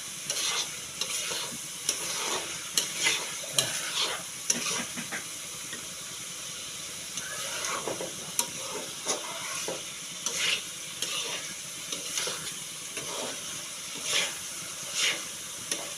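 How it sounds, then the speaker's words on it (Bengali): Potatoes and dried fish fry in a pan with a continuous hissing sizzle, punctuated by irregular scrapes and knocks of stirring, heard close and alone without talk. "তো এই যে আলু আর শুটকি মাছগুলা কষাই নিতেছি"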